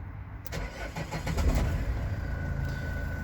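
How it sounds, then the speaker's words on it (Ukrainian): A 2005 Nissan Primastar van's engine cranks briefly and catches, then settles into a loud, steady idle heard up close. "Давайте глянемо, як авто заводиться"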